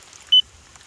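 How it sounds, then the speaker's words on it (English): A Mighty Mule gate opener giving a single short, high electronic error beep, clear and close against near silence. "It's beeping already."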